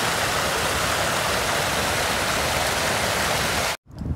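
Dirty drain and sewer water pours down a dam in a steady, loud, close roar of rushing water that cuts off abruptly near the end.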